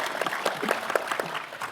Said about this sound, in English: Let's actually quickly get a round of applause for Lightning Labs for their recent huge round of capital that they just raised.